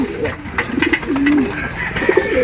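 A racing pigeon coos at a loft during a race arrival in Ilocos, two or three soft, close rolling coos with a voice talking faintly around them.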